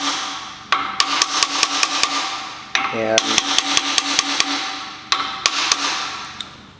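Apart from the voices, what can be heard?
brass hammer tapping connecting rod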